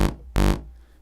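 Serum synth's default initial patch playing a plain, basic bright tone: two short sustained notes, the second longer, each fading with a brief tail; alone and clear.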